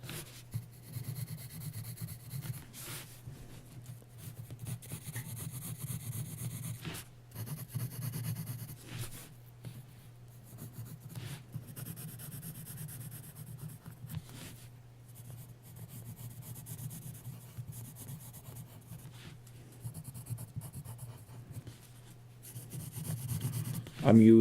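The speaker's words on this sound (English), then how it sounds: "I'm using regular printer paper and an HB pencil" An HB graphite pencil scratching over regular printer paper, soft irregular strokes with pauses between bursts, close and quiet over a low steady hum.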